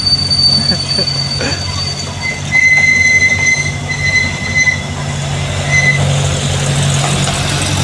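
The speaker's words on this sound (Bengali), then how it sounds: "ট্রেনটাও এক চক্কর অলরেডি লাগিয়েই ফেললো" A toy train circles a model railway display with a steady rolling clatter of small wheels, thin metallic squeals and faint background chatter throughout.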